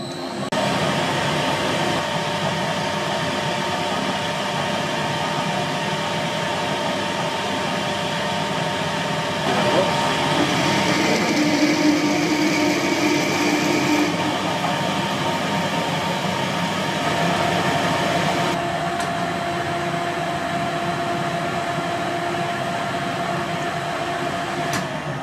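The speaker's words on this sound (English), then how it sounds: "Alright, so we'll machine these down and turn them into something." A lathe turns plain carbon steel bar stock into a small bush, giving a steady droning hum with a brief shift in tone partway through as the cut changes. No one speaks over it.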